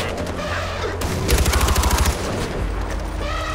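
Gunfire from the video game Far Cry 4: a rapid, loud burst of automatic shots crackles in the middle, framed by quieter background game noise, with no speech.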